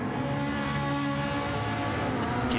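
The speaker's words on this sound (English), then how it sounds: "Man, that Ferrari is loud." A Ferrari race car at Watkins Glen roars loudly past, its high-revving engine note steady and sustained over a brief stretch.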